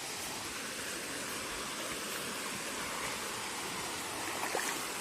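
Creek water flows and rushes in a constant, fairly faint wash of noise, steady and unbroken with no voices.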